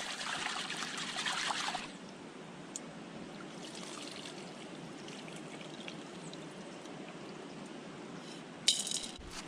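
Red peas being washed in river water at a riverside cooking spot: a splashing, pouring rush of water for about two seconds, then a soft steady trickle and flowing stream, with a brief splash near the end.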